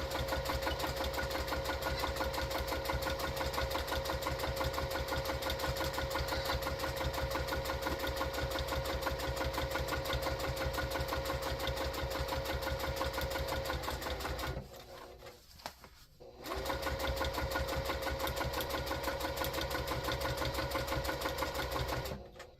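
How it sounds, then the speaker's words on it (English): A straight stitch sewing machine runs steadily while top stitching a foam-lined fabric basket, its fast even whir continuous and close, broken by one short pause partway through before the stitching resumes. "Now I'm going to go and top stitch this other side."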